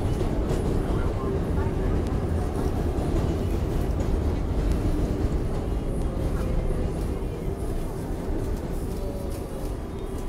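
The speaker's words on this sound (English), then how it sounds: "There is a Manhattan bound 7th local train." A Manhattan-bound R188 7 local train on the New York subway rolls along with a steady, loud rumble and rattle of wheels on track, a constant low roar throughout with faint squealing tones.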